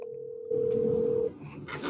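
A telephone call rings out: a steady single-pitched tone sounds alone on the line for about a second and a half, followed by faint line noise.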